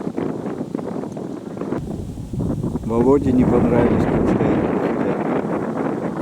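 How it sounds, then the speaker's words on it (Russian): Strong wind buffets the microphone at a goose hunt over decoys in Germany, making gusty roaring noise that grows louder midway. Someone speaks over the wind. "даже усиливающийся ветер, который обычно сопутствует удачной гусиной охоте, в этот раз не помогал"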